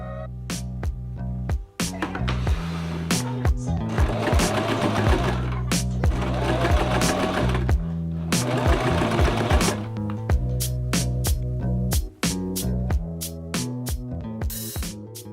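A sewing machine stitches a fabric sleep mask with lace, running in several loud bursts of rapid mechanical clatter separated by short pauses and sharp clicks, close by with no voices.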